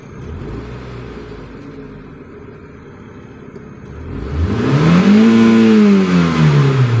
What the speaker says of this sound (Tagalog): At i-revolution pala natin yan kung hanggang saan yung RPM niya.